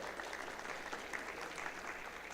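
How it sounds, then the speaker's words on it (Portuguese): Faint, distant clapping from an audience at a lecture on elder care rights, a steady patter of hands heard at low level throughout. "Uma salva de palmas para ela."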